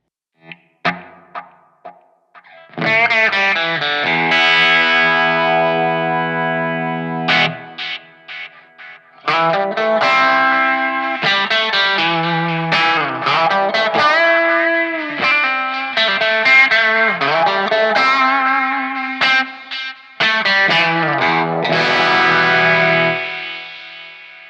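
Positive Grid Spark practice guitar amp running its echo filter effect: a guitar played through it with a processed, filtered echo tail, a few sparse plucks and then sustained distorted chords and notes, loud and alone with no talk.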